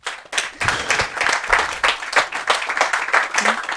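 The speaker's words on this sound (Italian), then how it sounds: "un applauso a Roberto Bindi" A short burst of audience applause for speaker Roberto Bindi at a security talk, with individual claps audible, fairly close and loud, rising and falling over a few seconds.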